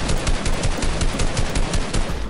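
Rapid shotgun blasts fired in Fortnite ring out loud and close in a steady, evenly spaced run of about eight sharp reports over a constant battle din.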